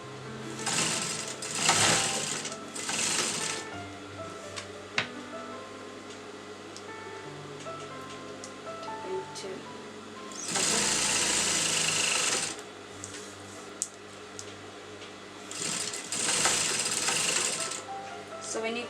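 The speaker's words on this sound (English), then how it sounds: "So then you're going to sew the inner edge of the lace." Sewing machine stitching the inner edge of lace onto a kurta lining, bursts of steady mechanical whirring that start and stop several times, with a spoken voice between and under the runs.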